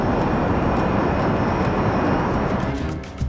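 A Learjet jet aircraft flies overhead: a steady, loud broadband engine roar that holds throughout and dips slightly near the end.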